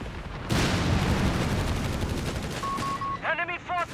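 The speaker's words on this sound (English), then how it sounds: "There you go, Panzerjaeger's engaging the Chaffee light tank." Battle noise from a Company of Heroes 3 match, with a Panzerjäger firing on a Chaffee light tank: a sustained loud roar of gunfire and blasts, then a short beeping tone and a brief voice near the end.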